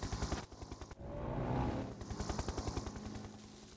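Gunfire in the Red Alert 2 video game comes as rapid, rhythmic bursts of automatic fire with a heavier blast in the middle, dense and loud throughout.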